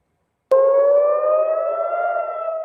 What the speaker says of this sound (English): Air raid sirens in Jerusalem this morning